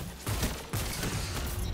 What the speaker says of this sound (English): we did choke one of our hand cannon shots right there